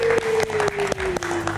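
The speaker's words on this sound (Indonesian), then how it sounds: "Kita kasih tepuk tangan buat Elma." Studio audience clapping on a late-night TV talk show, a steady burst of applause with a sustained musical tone running beneath it and a faint voice in the mix.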